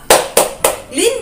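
Three sharp, evenly spaced hand claps from a children's clapping game, followed by a short rising-falling voice as a child or teacher begins a chant.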